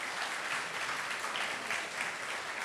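A church congregation claps together in a dense, even burst, close and steady for a few seconds without talk.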